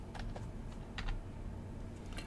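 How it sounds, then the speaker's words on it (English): Someone types a search query on a computer keyboard, a soft, quiet patter of scattered keystrokes in short bursts over a steady background hum. "I'm typing 3D animation"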